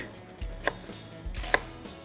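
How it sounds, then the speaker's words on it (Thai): A couple of crisp knife taps on a cutting board as vegetables are finely diced, close and quiet, with soft thuds between them and no talking. "ทีนี้ผมก็จะหั่นแบบ ละเอียดละเอียดหน่อยนะครับ"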